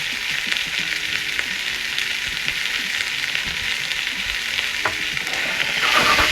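Beef sausages browning in a frying pan give a steady, dense sizzle and spatter that holds evenly throughout and swells slightly louder near the end, with no talking.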